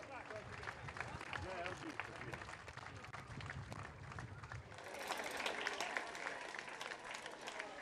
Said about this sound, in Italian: Applausi per loro, applausi per loro.